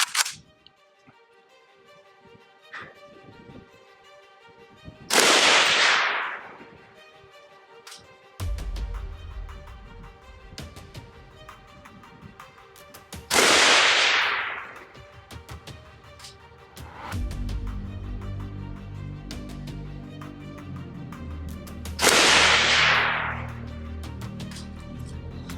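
Three loud rifle shots from a DDI stamped fixed-stock AK-47 firing PMC ammunition, spaced several seconds apart, each a sharp blast with a ringing decay, over outdoor background noise.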